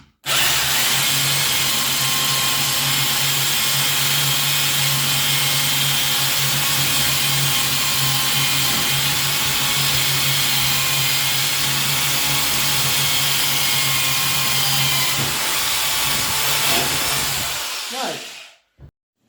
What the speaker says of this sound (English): very easy drilling at the wood with this adapter